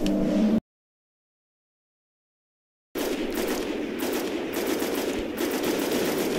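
Sustained automatic gunfire hammers away at a boss in Destiny, a rapid, loud stream of shots that resumes after a brief silent gap.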